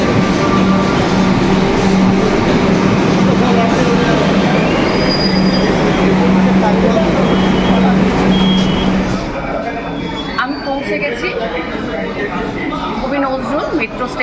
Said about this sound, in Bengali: মেট্রো এসে গেছে আমরা এবার মেট্রোয় উঠছি